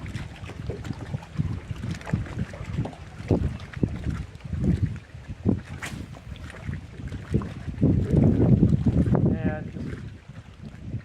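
Blustery wind buffets the microphone in low rumbling gusts, with water and boat noise underneath on the Cumberland River and a louder gust near the end.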